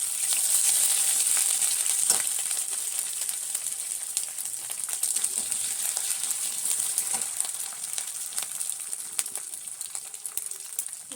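Garlic and ginger fry in hot oil with whole garam masala for a fish kofta curry, giving a steady, close hissing sizzle that eases slightly, with faint stirring clicks.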